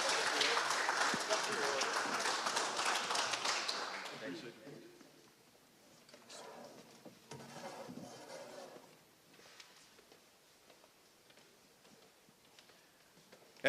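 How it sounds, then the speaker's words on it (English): Applause from an audience at a high school football media day for the Martin County Gators, loud for the first four seconds and then dropping away to scattered claps and quiet room noise. "Let's have a round of applause for the Martin County Gators."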